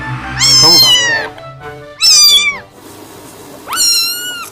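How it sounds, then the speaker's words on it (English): A cat meows three times, close and loud, each call a drawn-out rising-then-falling mew with pauses between. "Most beautiful sound of cat."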